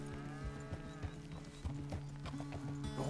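Horse hooves clip-clop at a steady walking rhythm in Red Dead Redemption 2, close and fairly clear, with a low tonal background bed running under the hoofbeats.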